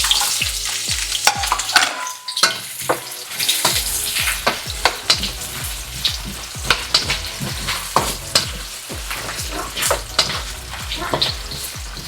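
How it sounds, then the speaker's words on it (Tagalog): Potato and carrot pieces fry in a pan with a loud, busy sizzle, broken by frequent sharp scrapes and clacks of stirring and some pauses, with no voices. "Prituhin muna natin tong potato and carrots."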